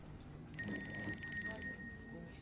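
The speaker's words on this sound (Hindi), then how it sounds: "नेहात का फोन है" A telephone rings with a bright electronic trill for about a second over a low background murmur.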